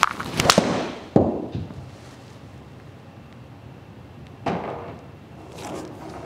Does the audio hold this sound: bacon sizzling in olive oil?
no